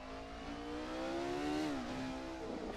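A Jordan 191 Formula One car in Assetto Corsa at Goodwood Hillclimb howls as it revs high and steady, then drops briefly on a shift before climbing again, loud and close with no talk over it.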